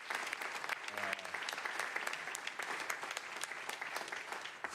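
A crowd at a mayor's public safety announcement breaks into faint, brisk applause. Scattered sharp claps blend into a steady patter, heard at a distance throughout.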